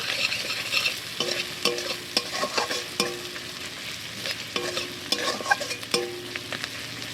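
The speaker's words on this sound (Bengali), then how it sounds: "আর জিরে গুঁড়ো, আর ধনে গুঁড়ো দিয়ে দেবো হালকা করে। তো ভালো করে আরও কষে নেব মশলাটাকে।" Onion-based spice masala with turmeric, cumin and coriander powder frying in oil in a pan, a close sizzle broken by repeated sharp scrapes and clinks of the spatula stirring it.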